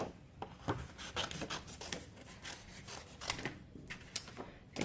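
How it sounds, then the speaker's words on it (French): Scissors snipping paper butterflies for a handmade greeting card, a quiet run of irregular close rasping cuts and rustles with no talking. "il faut que je les coupe au ciseau"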